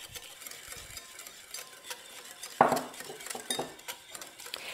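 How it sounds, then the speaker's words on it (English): Homemade mayonnaise being whisked in a bowl, a soft steady scraping and stirring with a sharper clink of the whisk against the bowl partway through, close and alone with no voices. "So we'll keep whisking this."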